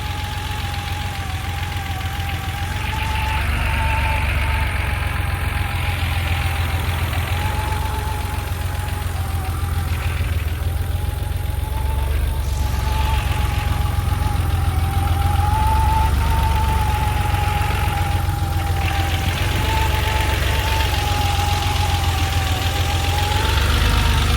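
A 1984 Porsche 911 coupe's 3.2 liter engine idles steadily for the whole stretch, a close, even mechanical hum with a faint rhythmic tick and no talking.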